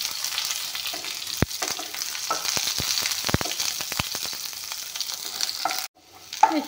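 Onions frying with bay leaves and five-spice in a pan for a mushroom and tomato curry: a steady close sizzle punctuated by sharp spatula clicks and scrapes, with no talking, then a sudden drop to near quiet at the end.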